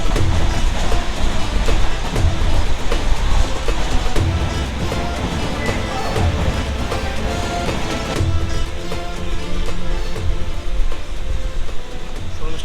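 The Kandari Express train rumbles loudly and continuously at night on the Digha–Howrah route, heard from inside a carriage, with steady rattling and clacking of wheels over the track.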